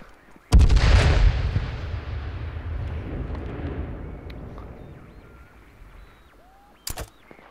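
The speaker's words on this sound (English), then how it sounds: "I've got explosive crossbow rounds here" An explosive crossbow round blasting in the video game H1Z1: a sudden loud boom with a long rumbling decay fading over several seconds, then a second sharp crack near the end.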